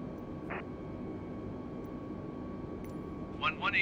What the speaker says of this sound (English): AUX power unit.